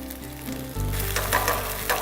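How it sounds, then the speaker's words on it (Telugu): Burger buns and chicken keema fry in oil in a pan, a close, steady sizzle that swells louder partway through, with faint stirring scrapes and no talking. "ఈ ఆయిల్లోనే కాసేపు ఇలా ఫ్రై చేసుకోవాలి. బన్స్ చక్కగా బ్రౌన్ కలర్ వచ్చేలోపు ఈ కీమా కూడా ఇంకా ఉడికిపోతుంది."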